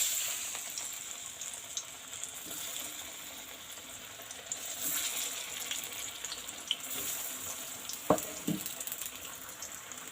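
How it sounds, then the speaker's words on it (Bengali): Steady sizzling of yam koftas frying in hot mustard oil, a constant crackle with a few louder pops and light clinks of a utensil. "এবার কোপ্তাগুলো কিন্তু ভাজি নিন"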